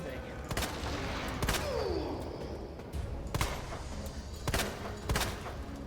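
Gunfire in Resident Evil 2 Remake during a boss fight against a creature with an eyeball weak spot on its shoulder: about five sharp shots at irregular intervals, fairly loud over a dense, rumbling game background.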